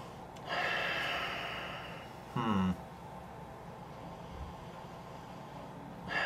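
A couple of short, close nasal sniffs at a glass of Busch Ice beer with a breathy snort between them, separated by quiet pauses.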